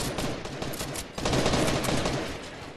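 Bots firing in Fortnite make dense, sustained rapid gunfire, loud and continuous like a machine-gun fusillade that swells halfway through, with no voices.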